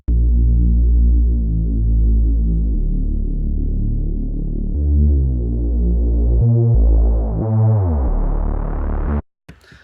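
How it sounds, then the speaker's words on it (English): A big Reese bass synth in an electronic dance track, a thick throbbing detuned drone that swells as its filter cutoff opens, then jumps between octaves in short stabs before cutting off abruptly. "It's like this really big Reese bass."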